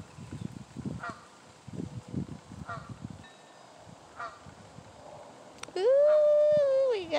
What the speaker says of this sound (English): Ooh, we got goose babies.